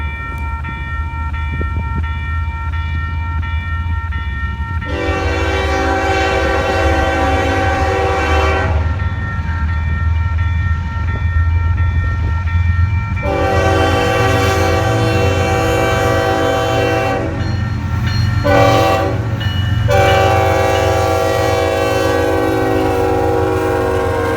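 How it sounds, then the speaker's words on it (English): A Union Pacific freight train led by an ES44AC locomotive sounds its horn in several loud, sustained multi-tone blasts, with one short break between them, over the steady rumble of the passing train. "We got a great horn show from the engineer."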